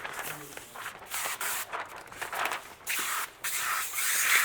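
Several short bursts of hissing spray from a spray bottle pressing paint protection film against glass, spaced irregularly with brief gaps between them, close up and fairly loud.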